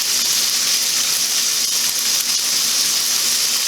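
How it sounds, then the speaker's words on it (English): Food fries in olive oil in a pan over medium-low heat, giving a loud, steady, unbroken hiss of sizzling close by. "Still gets that nice sizzle."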